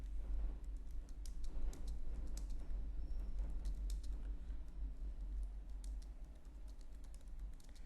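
Steady keyboard typing of a C program to add two numbers, soft clicks running continuously over a low room hum with no talk.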